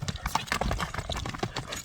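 A horse's hooves clip-clop in a quick, uneven patter of close knocks, with a voice speaking faintly underneath.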